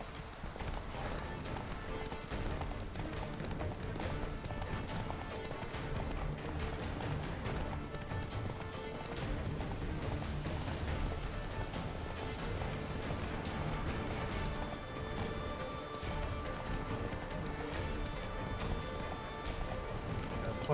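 Roach the horse gallops steadily through The Witcher 3 on Death March difficulty, a continuous rhythmic clip-clop of hooves with a snort or whinny, close and loud over game music and ambience.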